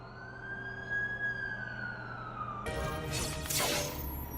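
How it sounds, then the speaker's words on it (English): An ambulance siren in The Amazing Spider-Man 2 video game wails in a slow falling sweep, then cuts into a louder, harsher burst as the vehicle draws near, over a low engine-like drone. "That's the ambulance I called."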